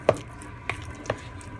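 Ground black pepper is stirred into an alcapuria mixture, producing a few soft, separate squishing and tapping strokes about half a second apart, quiet and close with no talking.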